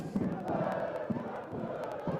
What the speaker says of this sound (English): a very healthy crowd inside the Vasa Stadion